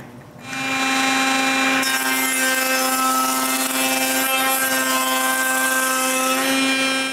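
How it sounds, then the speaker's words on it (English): A power tool cutting grooves in wood, a loud steady whine that starts after a brief pause and holds unbroken throughout, close by. "Now I need to change the bit and cut the grooves."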